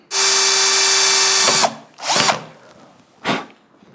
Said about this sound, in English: I'm just going to drill a hole in the front here, shove it in, and mount the other antenna to it